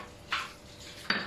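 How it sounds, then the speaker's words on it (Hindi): Dishes clatter in a home kitchen while a fish fry batter is being prepared, two short bright clinks of pots and plates about a second apart, moderately close with a quiet background. "बर्तन धोई जा रही है"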